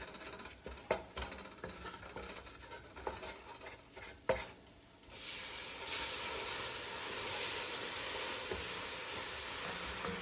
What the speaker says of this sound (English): We get ready to deglaze this.